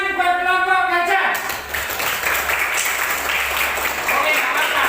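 Applause and clapping from a classroom audience for a student presentation group, a dense steady patter filling the room after a voice stops.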